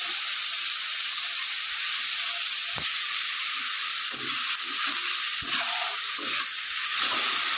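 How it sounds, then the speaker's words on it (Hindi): Cauliflower, onion and peas fry in a pan while being stirred, a steady loud sizzle and hiss with occasional scraping knocks of the utensil, heard up close. "तो हम इसमें गोभी डाली है, प्याज और मटर दी सब लोग मिक्स करके"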